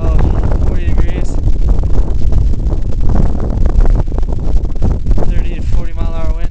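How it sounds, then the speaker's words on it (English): Strong 30 to 40 mph wind at Mount Everest base camp buffets the microphone in loud, continuous gusts, with a voice speaking briefly in the blustery roar. "30 to 40 mile hour wind"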